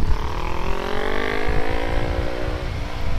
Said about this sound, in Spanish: Pero suena muy bacana la moto.